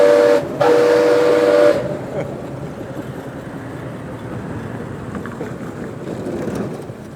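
A loud steam car whistle blows in two long blasts, briefly broken, then gives way to a steady rumbling hum of travel.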